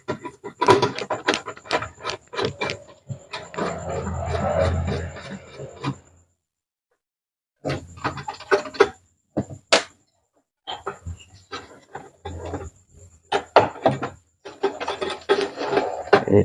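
Bolts are unscrewed and parts pried from a rice cooker casing, giving repeated scraping, rasping and clicking bursts with short silent gaps, close and fairly loud.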